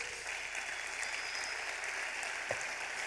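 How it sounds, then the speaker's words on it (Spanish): A congregation at a church teaching session applauds with a steady, hissing wash of clapping that stays faint and distant throughout. "dale un fuerte aplauso al Señor"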